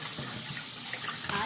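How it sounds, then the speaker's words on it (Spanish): Water poured from a pot onto rice while cooking at home, a quiet, steady splashing and trickling pour lasting a moment, close by, with a voice faintly in the background. "Ahí está tirando el agua, todo el agua al arroz, todo."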